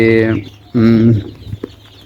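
Two short bursts of hen clucking up close on a poultry farm, followed by a few faint scratchy sounds.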